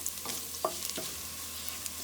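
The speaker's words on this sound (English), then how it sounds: "Just want to fry it up a little" Cardamom, cinnamon, clove, star anise and bay leaf fry in a pan for vegetable biryani, a soft continuous sizzle with a few stirring scrapes and taps, faint and close, no talking.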